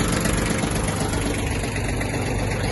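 Yanmar F-175 mini tractor running with the PTO shaft spinning and mower blades turning, a loud, continuous close engine drone with a steady mechanical whir and no breaks.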